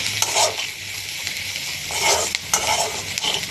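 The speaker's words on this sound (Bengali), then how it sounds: "আর একটু হলুদ দিয়ে ভালো করে নেড়ে চেড়ে নেব" Koi fish seasoned with salt and turmeric gets stirred in a hot pan, a steady close sizzle of frying broken by scraping strokes of the spatula, with no voices.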